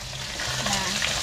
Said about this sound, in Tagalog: nagpiprito po ako ngayon.